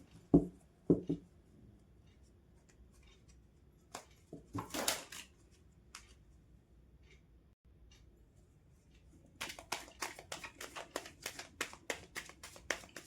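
Tarot cards being shuffled on a table, a few isolated taps early on, then a quick rapid run of crisp card riffles and flicks near the end, quiet and close with no speech.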